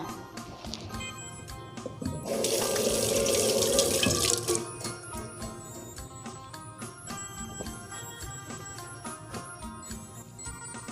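Mustard greens being washed in a sink under a running tap, with a loud gush of water for a couple of seconds followed by lighter splashing, dripping and handling of the wet leaves.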